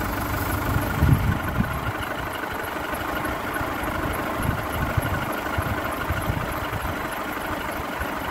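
VW Golf engine idling with a tube disconnected, giving a steady, slightly uneven low rumble with a faint vibration, heard close and alone with no talk.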